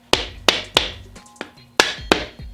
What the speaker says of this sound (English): we're going to take our rubber mallet here